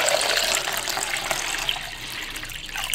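Fresh, clean water pours steadily into a vase for a bearded iris flower arrangement, a continuous close splashing hiss with no talking.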